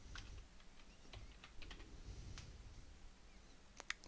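Typing on a computer keyboard to search for a Linux package in software center: a quiet, steady run of soft key clicks, with a sharper tap near the end.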